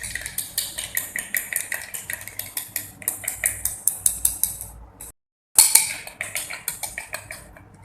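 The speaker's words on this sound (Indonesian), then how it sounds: "Lalu aduk hingga homogen." A utensil stirs a herbal antiseptic soap mixture in a container, making a rapid, regular series of clinking scrapes with one brief pause before the rhythm resumes.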